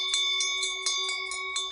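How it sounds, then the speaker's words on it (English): A bell rings in quick repeated strokes, each strike bright and metallic with a sustained ringing tone between hits, close and clear with no talking. "A bell rings."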